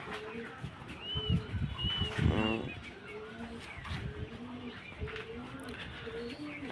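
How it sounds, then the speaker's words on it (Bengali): Pet pigeons feeding on a rooftop coo in soft, low, repeated calls that rise and fall steadily throughout, close by, with some background rustle. "আজকে আমার কবুতরগুলো দেখাচ্ছি।"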